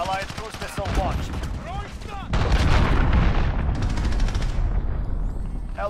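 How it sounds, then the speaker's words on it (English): Cruise missile strike in a video game: a loud, sustained blast rumble hits midway and rolls on with crackling gunfire-like bursts, after a quieter stretch of game sounds that may include voices. "Allied cruise missile launched."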